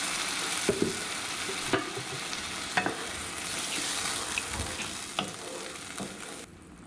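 Salsa hits two tablespoons of hot vegetable oil in a pan, loud continuous sizzling and spitting up close with occasional clatters of stirring, no voices.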